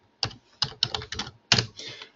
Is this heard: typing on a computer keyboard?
yes